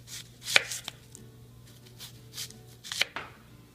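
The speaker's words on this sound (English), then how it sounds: "We'll cut onions in thick slices too." Thick slices of onion are cut with a knife on a board, a few distinct, close chopping thuds spaced unevenly across a few seconds against a quiet background, with no talking.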